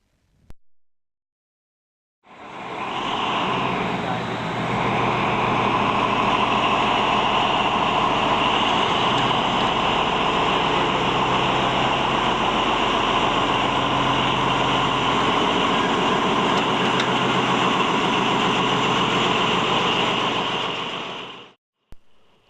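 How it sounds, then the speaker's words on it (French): Diesel train pulling out of Tapolca station in Hungary, a loud, steady engine drone with a broad roar that holds constant for about twenty seconds before cutting off. "Observez le départ de ce train fait par le chef de gare"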